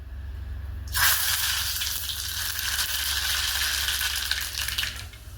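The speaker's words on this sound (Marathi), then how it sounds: "आता आपलं तेल गरम झालेलं आहे आपण मोहरी टाकूया त्याच्यात" Mustard seeds dropped into hot oil for a dhokla tempering burst into loud, close crackling and spitting that starts abruptly and keeps popping densely throughout, with no voices.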